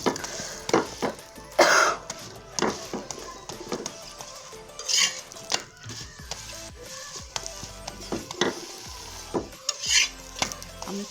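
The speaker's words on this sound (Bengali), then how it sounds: "তো আমি চুলার জালটা কমে পরে আমি এটা একটা একটা করে ভাজতেছি" Food fries in oil in a pan on a stove over lowered heat, pieces turned one at a time, with a soft sizzle under repeated close clinks and scrapes of a utensil against the pan, irregular and busy, with no one talking.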